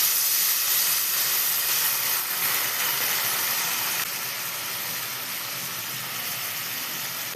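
Water poured into a hot pan while cooking fish curry gives a loud, steady hiss and sizzle that runs for the whole stretch with no voices, easing off slightly partway through.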